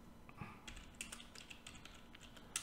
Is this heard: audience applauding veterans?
no